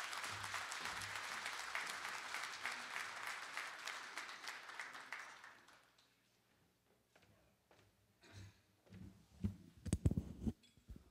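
Audience applause follows a community event speech about Fuyao's economic development, dense clapping for about six seconds before fading, then scattered handling noises and thumps near the end.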